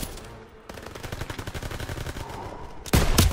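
Rapid bursts of machine gun fire ring out in Call of Duty WW2 during a battle at a bridge, a dense rattling rhythm of shots with a louder blast near the end.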